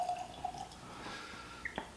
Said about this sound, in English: Get us a little pour of Sam Houston 15 year.